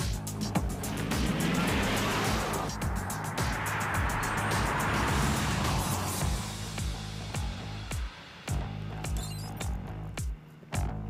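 A 2023 Hyundai IONIQ 6 Ultimate electric car accelerates hard, its steady motor whine and road roar filling the cabin, then a few sharp clicks and brief dips break through as the run eases off.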